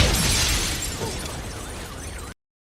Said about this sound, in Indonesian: Tak lama terdengar suara ledakan dari dalam bank